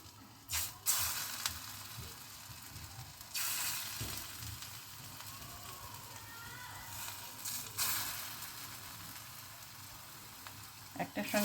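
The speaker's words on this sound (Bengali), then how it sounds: "এবার ছোট ছোট করে পকোড়া করে ভাজবো এটা।" Small puffed-rice (khai) pakoras sizzle and crackle as they fry in hot oil in a home kitchen, a steady close hiss with a few louder bursts as pieces are dropped in; no talking.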